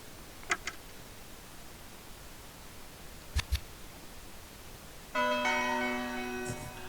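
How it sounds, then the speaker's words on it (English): In the horror game Spirit Hunter: Death Mark II, a clock tower bell sounds once with a sustained, resonant ring in the final seconds, after a few faint isolated clicks in an otherwise quiet scene. "I hear the sound of a bell, but why?"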